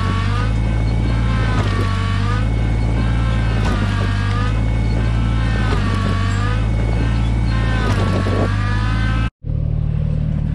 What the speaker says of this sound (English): See if the tractor can pull that.